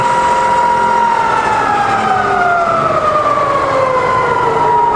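A Bridgeport milling machine spindle runs at about 300 RPM, a loud steady mechanical whine and hum close by, its tone gliding slowly downward as the speed settles.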